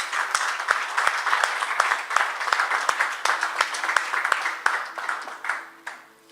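A church congregation bursts into sustained applause during a worship service, dense clapping filling the room steadily for several seconds before tapering off at the end.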